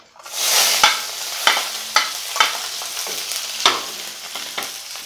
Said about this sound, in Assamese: প্ৰথমে পিঁয়াজখিনি অকণমান ৰঙচুৱা হোৱালৈকে ভাজি ল'ব